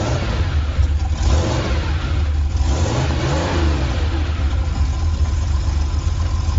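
A sports car engine revs and accelerates in a steady, loud roar that holds for several seconds, with a rising pitch sweep partway through as the car speeds up.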